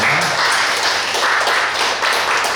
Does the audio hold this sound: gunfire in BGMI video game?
no